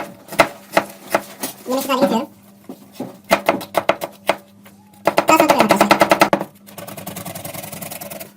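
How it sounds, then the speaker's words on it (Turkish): A knife chops onions rapidly on a cutting board in quick bursts of sharp taps, with a brief voice in between and faster rhythmic chopping later. "soğanımı aynı şekilde doğrayacağım arkadaşlar"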